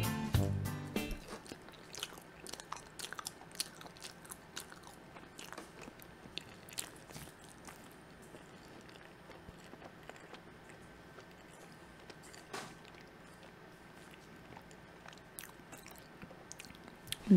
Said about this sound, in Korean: 한번 먹어보도록 하겠습니다